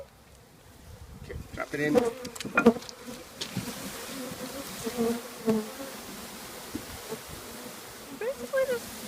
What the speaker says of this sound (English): Basically just pouring a whole bunch of bees into this thing.